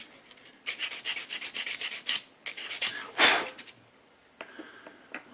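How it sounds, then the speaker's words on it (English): Rasping, rhythmic sanding strokes on a small plastic sprocket part from a HobbyBoss 1/16 Tiger I model tank kit, close and fairly loud, in bursts with short pauses between them. "So if I take that off, give that a sand."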